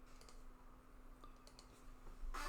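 Faint, sparse taps on a computer keyboard as a number is entered into a calculator, a few light clicks over a quiet room hum, ending with a brief louder clatter.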